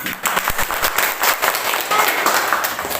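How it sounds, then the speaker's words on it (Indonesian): Students in a classroom clap together, a loud, close patter of hands with some uneven rhythmic bursts and faint voices mixed in. "Tepuk tangan."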